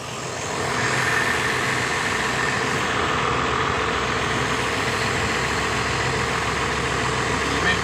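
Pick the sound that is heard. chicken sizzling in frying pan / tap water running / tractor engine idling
tractor engine idling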